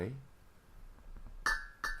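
Two quick clinks of drinking glasses in a toast, with a short bright strike and brief ring each, close and moderately loud, following a stretch of quiet room noise.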